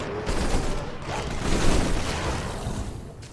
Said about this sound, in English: for now we're going to shoot aliens